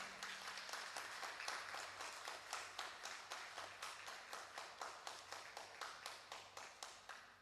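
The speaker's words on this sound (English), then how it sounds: "A loud round of applause." Audience at a dental college graduation ceremony applauding, a sustained wash of clapping with a strong regular pulse of rhythmic group claps, fairly distant and quiet.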